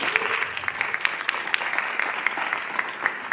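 Audience applause at a family engagement keynote address in South Carolina, a steady burst of clapping from a crowd that fills the room and holds evenly for a few seconds.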